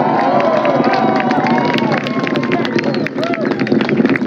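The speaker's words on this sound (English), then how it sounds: "Crowd watching the launch at Wallops there, cheering its liftoff." A loud crowd at Wallops cheers and shouts continuously as a rocket lifts off, a dense roar of voices with whistles and wind buffeting the microphone.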